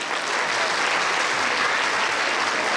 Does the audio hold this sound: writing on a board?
no